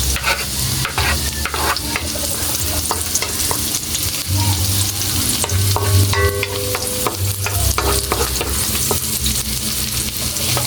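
Garlic sautés in a pan as the base of a sweet and sour sauce, a loud continuous sizzle with frequent scraping stirs and clinks close by, and no one talking.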